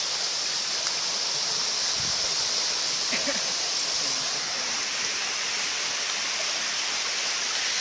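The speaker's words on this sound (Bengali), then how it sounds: "এই নীরব প্রকৃতির মধ্যে আসলে আপনারা শুধু পানির শব্দ শুনতে পাবেন" A waterfall in quiet natural surroundings makes a constant broadband rush of falling water, steady and enveloping, with a few faint brief sounds underneath.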